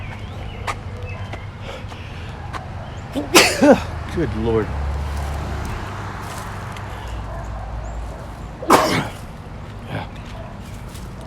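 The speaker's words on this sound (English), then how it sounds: "I'm gonna have to sneeze." A close, forceful sneeze with a gasping buildup, followed by a second sneeze later; a man mutters briefly in between over quiet outdoor background.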